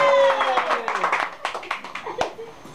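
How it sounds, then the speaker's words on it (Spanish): Scattered hand clapping at a children's birthday party with clowns in New York, a handful of separate claps close by, mixed with voices and a little laughter. "¡Aplauso!"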